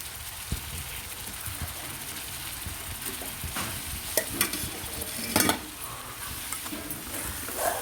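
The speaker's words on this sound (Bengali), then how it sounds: "দিয়ে একটু ভালো করে নাড়াচাড়া করে নিচ্ছি।" Chopped tomatoes and spices sizzle in a frying pan while a utensil stirs them, a steady close crackle with irregular scraping bursts of the spoon against the pan.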